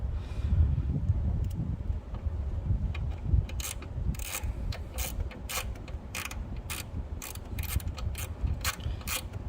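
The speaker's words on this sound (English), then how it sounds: "Insert your screw with your lock washer, and that's going to go into this first hole right here." A screw fitted with a lock washer is driven into a terminal hole on a Power Pro brake component, giving repeated close ratcheting clicks and light metallic rubbing in short bursts, with no talking.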